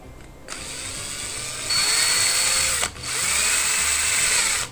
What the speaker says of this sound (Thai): แล้วเราก็เจาะเลย